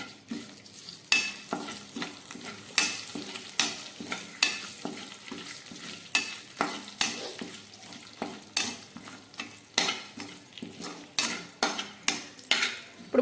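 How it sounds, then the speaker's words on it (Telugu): Tempering for onion tomato chutney: mustard seeds, dried red chillies, cumin and curry leaves frying in hot oil in a kadai, with continuous sizzling broken by regular scraping stirs of a metal spoon against the pan. "కడాయిలో ఆయిల్ వేసి కాగాక ఆవాలు, ఎండుమిర్చి, జీలకర్ర, కరివేపాకు వేసి బాగా ఫ్రై చేసుకోవాలి."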